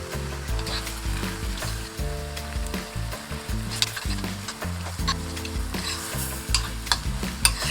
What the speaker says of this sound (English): fry the kimchi well before adding any water